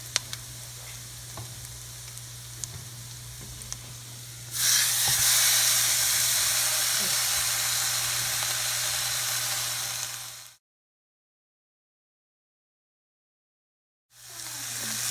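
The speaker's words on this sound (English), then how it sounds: "I'm going to add the pork roast so I can sear it on every" Pork roast searing in a hot pan, a steady broadband sizzle that swells louder midway, then cuts to silence before the frying noise returns briefly at the end.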